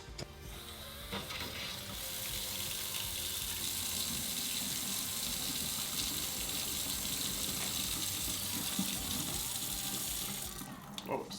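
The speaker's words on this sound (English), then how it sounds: "we're about to turn on the sink and check to see if things are working properly." An office sink faucet, newly plumbed during a DIY makeover, is turned on, and a steady rush of running water fills the sink continuously for about ten seconds, with a few clicks and clunks at the start and end.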